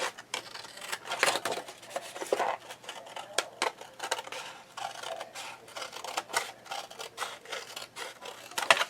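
Scissors snip off excess paper around a craft display box and mini album, a series of close, crisp cutting and rustling sounds with short gaps, no talk.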